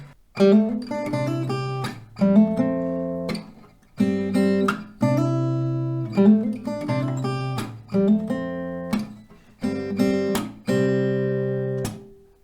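Plucked acoustic guitar notes ring out in a gentle melody, phrased in short repeated groups with brief pauses between, clear and close with no voices.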